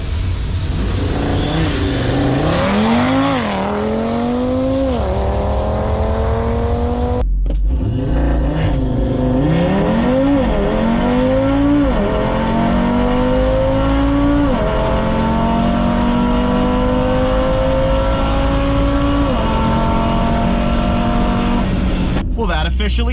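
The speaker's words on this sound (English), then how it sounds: "Time to get to that quarter mile run." An Audi RS3 in sport mode launches on a quarter-mile run, engine roaring loud and close as it climbs through several automatic upshifts with brief dips between gears, a sustained hard pull lasting over twenty seconds.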